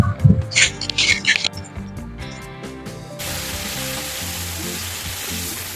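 Onion paste frying in hot oil for a mutton curry and bahara rice meal, starting with busy clatter and voices before settling into a steady, loud broadband sizzle that fills the second half.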